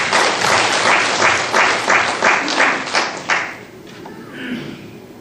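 A church congregation at a missionary sending service applauds in rhythmic, pulsing waves of clapping for a few seconds, then it fades quickly, leaving faint room noise and a murmur.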